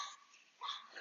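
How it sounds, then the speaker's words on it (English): A dog barks in the background of a quiet room, two short, muffled bursts a moment apart, faint and somewhat distant, with no talking over them. "You might hear a dog barking in the background."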